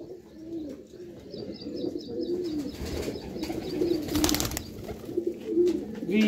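Pigeons on a rooftop coo in repeated low, throaty phrases, close and fairly loud, with softer chirps and a brief burst of wing or rustle noise partway through; no talk.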